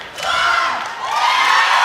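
Loud arena crowd at a Lauren Williams versus Victoria Tamez match, cheering and shouting together in rising swells as they count down the final seconds of the clock, with no other voices over it.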